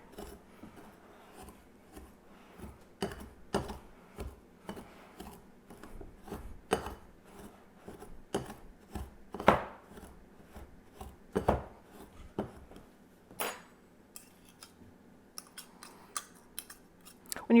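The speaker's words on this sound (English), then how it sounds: "And just use a pastry cutter and cut this together." A pastry cutter works cold butter into flour, sugar and cinnamon for a streusel topping in a bowl, making repeated close, crisp scraping chops in an irregular rhythm, alone without talk.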